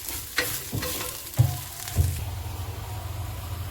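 Soybean chunks fry in a hot pan, a soft steady sizzle broken by a few scraping, clattering stir strokes early on, close and fairly quiet.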